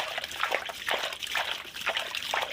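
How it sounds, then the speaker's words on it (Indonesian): Tobacco water trickles and splashes steadily in uneven bursts, poured from a container onto plant leaves and soil, close by with no voices. "kita siram pakai air tembakau"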